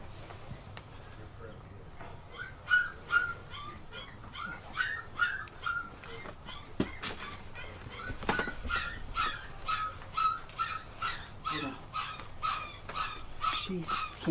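Dogs and young puppies whimper, yip and bark in repeated high whining bursts, faint to moderate and somewhat distant, with people talking quietly underneath.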